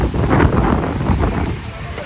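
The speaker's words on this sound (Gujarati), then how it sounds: "મસ્ત મજાનું આજે વાવાઝોડાવાળું વાતાવરણ હતું, એટલે મેં પણ થોડી ઠંડી ઠંડી હવાની મજા લઈ લીધી" Gusty wind in stormy weather roars and buffets against the microphone in a loud, rough rush that swells and eases over a couple of seconds.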